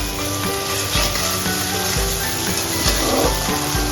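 Tomatoes frying in oil in a pan over a high gas flame for paneer butter masala, a loud continuous sizzle with periodic stirring strokes, no speech.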